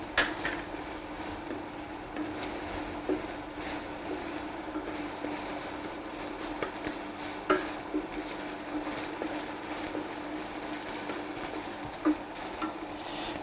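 Crushed ginger and garlic frying in a pan, a steady close sizzle with occasional small stirring clicks and scrapes, no talking.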